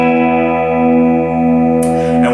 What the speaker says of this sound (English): on the bridge pickup you get kind of this warm, jangly sound like this. So here's a big open chord.